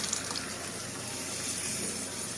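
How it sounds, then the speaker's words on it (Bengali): Boiled red lentils pour into a pan of potatoes and spices with a continuous wet rushing gush, close and steady for the whole stretch. "এবার দিয়ে দেব সেদ্ধ করে রাখা মুসুর ডাল"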